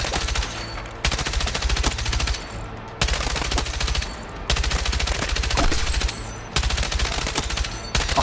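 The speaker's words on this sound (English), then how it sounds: "You got to try out the M123K LMG." M123K LMG firing in the video game Battlefield 6, long sustained bursts of rapid automatic fire, loud and close, separated by brief pauses.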